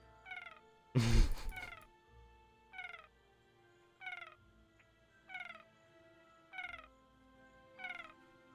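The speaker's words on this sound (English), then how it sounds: "Let me meow at you." A creature in the video game Adapt lets out a string of short, tonal meow-like calls at a steady rhythm, with one louder burst of noise near the start. The calls are fairly quiet.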